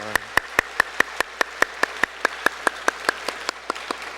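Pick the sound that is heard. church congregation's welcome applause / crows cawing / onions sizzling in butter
church congregation's welcome applause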